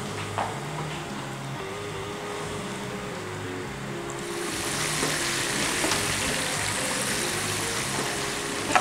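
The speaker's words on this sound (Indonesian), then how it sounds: "terus kita tinggal goreng ayamnya." Chicken pieces fry in hot oil, a loud broadband sizzle that swells partway through as more goes into the pan and then holds steady, with no talking over it.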